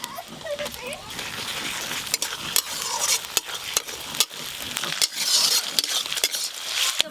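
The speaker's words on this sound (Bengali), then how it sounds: "এর সঙ্গে আদা রসুনের পেস্টটা সুন্দর করে ভেজে নেব" Onion frying with ginger garlic paste in a pan sizzles steadily up close, with frequent sharp spoon scrapes and clinks from stirring, and a voice talks over it.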